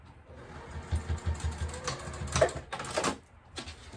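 A sewing machine whirs in short, uneven runs of basting stitches along a zipper, close by and moderately quiet, with small clicks between bursts.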